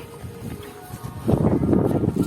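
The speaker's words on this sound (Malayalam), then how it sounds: "കാറ്റുണ്ട്." Wind buffets the microphone on a monsoon trek at Kalavantin Durg in Maharashtra, a low rumbling gust that swells louder midway and stays rough and close until the end.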